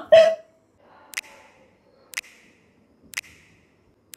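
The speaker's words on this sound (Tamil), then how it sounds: "விக்கல் எடுத்துட்டே இருக்கு" Four sharp, distinct hiccups spaced about one second apart follow a short vocal cry, each a brief abrupt catch of breath, close and clear against silence.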